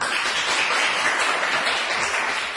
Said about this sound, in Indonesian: Sungguh luar biasa ya, tepuk tangan.